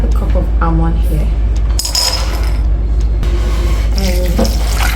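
Water from a kitchen tap runs steadily for the whole stretch, filling a container for soaking almonds, with light clinks over the flow and musical tones in the background.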